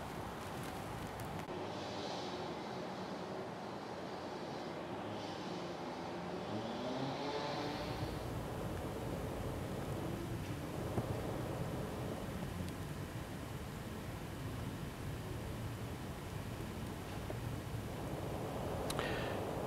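A homemade camera dolly rolling along a PVC pipe track, giving a continuous low rumbling roll with a brief shift partway through, steady and fairly close, with no talking.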